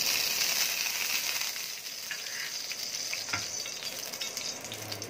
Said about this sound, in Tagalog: igigisa na natin ang ating cucumber toppings